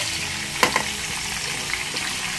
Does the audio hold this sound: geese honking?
no